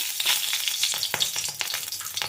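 A slit green chili sizzles in a little hot oil, a close, steady crackling fry with quick popping spatters throughout.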